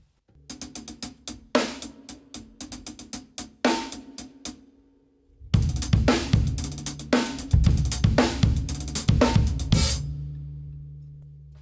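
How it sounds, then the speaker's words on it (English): A drum kit plays a beginner 16th-note groove. Right-left sticking ticks on the hi-hat first, then a louder, fuller pattern comes in with a snare backbeat and low kick thumps, played close with no talking. "let's move it up to the hi-hat and play a backbeat"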